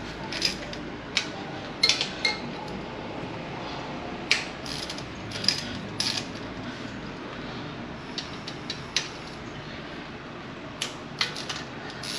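Bolts are loosened one after another from the cover of a Kawasaki Z125 motorcycle, giving sparse sharp metallic clicks and ratcheting ticks scattered over a quiet, close workshop background.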